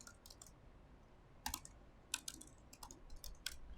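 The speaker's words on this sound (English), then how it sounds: "now I'm typing on here as if I'm talking to that bin sh command through the cat" Keys clack on a computer keyboard in short, irregular bursts of crisp clicks, fairly close but quiet, with pauses between groups of keystrokes and no talking.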